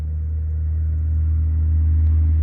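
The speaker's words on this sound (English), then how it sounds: "another truck's coming, I hear it" A low, steady rumble of a heavy vehicle on the road, swelling slightly as it approaches, with no other sounds.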